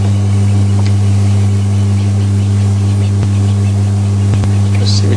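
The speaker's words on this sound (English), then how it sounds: "there's a game drive vehicle up that side" A game drive safari vehicle sits with its engine idling on an evening drive, a steady low rumble running throughout, with faint wildlife and ambient sounds over it.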